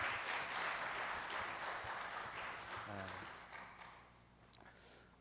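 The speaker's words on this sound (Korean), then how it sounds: "우리 귀한 목사님 나오실 때 박수로 이렇게 맞이해 주시기 바랍니다." A church congregation applauds to welcome the pastor at a worship service, the clapping fairly soft and distant as it gradually fades, with a brief voice and a few scattered taps near the end.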